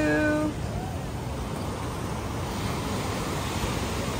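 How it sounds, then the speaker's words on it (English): Steady ocean surf at Waikiki beach fills the scene with a broad, continuous wash of breaking waves and wind, loud and unbroken, after a brief high vocal sound at the start. "Some waves today."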